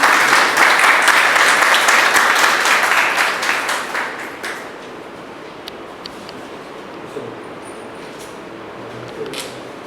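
An audience at a Hindi book launch ceremony breaks into loud, dense applause to welcome guests, fading out after about four seconds into quiet hall ambience with a few scattered claps.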